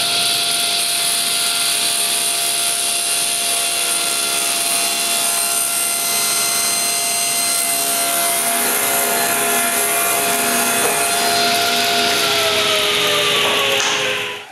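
Power saw in a workshop cutting wood pieces to width, a loud, steady high-pitched motor whine with sawing noise sustained throughout, then winding down at the end.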